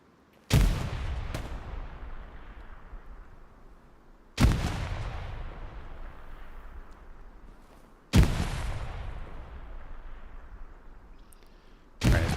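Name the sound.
grenades exploding and gunfire in video game Hell Let Loose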